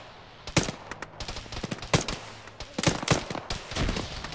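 Gunfire in an Arma military game session, scattered rifle shots and short bursts cracking at irregular intervals, some close and sharp, others softer and more distant, over a low ambient background.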